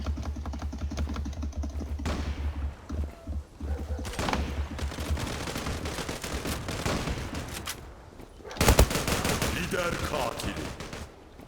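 Rifle fire in the online shooter Zula, with bursts of rapid shots running through most of the stretch and a loud blast near the end, amid busy game sounds and some talk.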